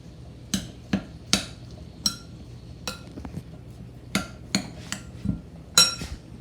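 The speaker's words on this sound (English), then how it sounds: "Grab me a spoon here, and I'm just going to sort of stir that around a little bit." A spoon clinks and taps against a bowl while stirring bread pudding mixture, a series of sharp, separate metallic knocks at an uneven pace, close and clear with quiet gaps between.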